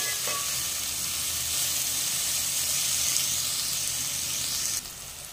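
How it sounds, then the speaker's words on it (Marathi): Onion sautéing in a pan for matar pulao gives a loud, steady sizzling hiss close by, with faint stirring underneath, which drops off abruptly near the end. "एकदम लालसर होईपर्यंत कांदा परतून घेऊया"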